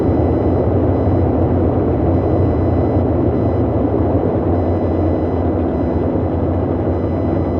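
Boeing 247D airliner droning on its single right engine after the other is feathered, a loud, steady low rumble with a continuous hum, close and unbroken throughout.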